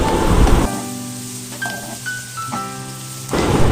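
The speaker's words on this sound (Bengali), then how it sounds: "একই তেলে দিয়ে দেব কুচি করে রাখা পেঁয়াজ এবং ফালি করা মরিচ।" Chopped onions and sliced chillies hit hot oil with a loud, dense sizzle and crackle that fills the clip, easing briefly in the middle before surging again, close and without talk.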